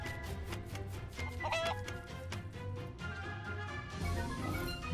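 Chickens cluck repeatedly in a farm scene of the video game Craft The World, bright clucks and short calls sitting over steady game music and ambience, loud and close throughout.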